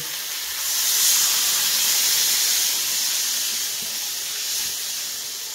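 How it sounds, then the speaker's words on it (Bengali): Crab curry with potatoes boils in a pot, a steady loud hiss of steam and bubbling that swells slightly and holds evenly throughout, with no talking. "দেখো কাঁকড়াটা কত সুন্দর ফুটছে"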